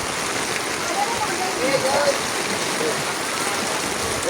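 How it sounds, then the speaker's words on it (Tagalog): Heavy rain falls steadily during a typhoon as a dense, even hiss with no pause, and a faint voice sounds briefly beneath it. "umuulan na nga"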